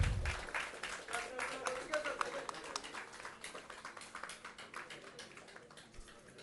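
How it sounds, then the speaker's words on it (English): A crowd claps in dense, steady applause that gradually tapers off, with a brief voice at the very start. "A bigger round of applause, please."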